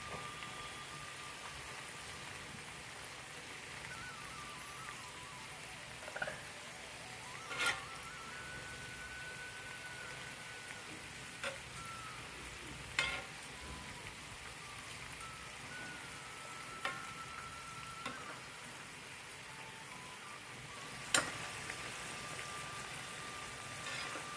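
Dal chekodilu fry slowly in oil over a medium gas flame, giving a faint, steady crackling sizzle broken by a few soft taps and clicks of a utensil.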